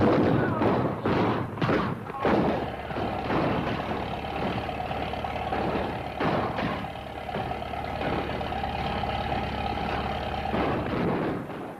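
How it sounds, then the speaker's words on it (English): Repeated heavy booms and thuds of cannon fire in the TV series The Beverly Hillbillies sound over a steady rumbling engine drone, with some talk mixed in. "What's all that racket? Sounds like gunfire."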